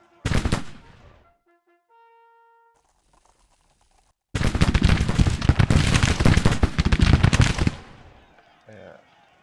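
Musket volleys crackle in a Civil War battle game: a brief burst of shots opens, then after a quiet stretch with faint tones a dense, sustained fusillade of rapid overlapping gunfire rolls on for several seconds before fading.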